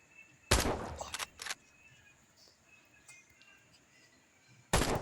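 Gunshots in the shooting game American Marksman: a sharp loud report, a quick burst of two or three more shots a moment later, then quiet ambience before another loud shot near the end.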